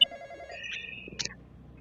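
A telephone rings inside the horror video game The Intruder: a short electronic ring with a few bright tonal bursts, fairly quiet and alone.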